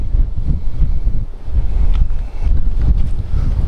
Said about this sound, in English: facing the wind a bit again.